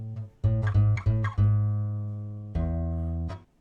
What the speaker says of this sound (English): if I take it and I pitch it down, that sounds a lot more like a bass line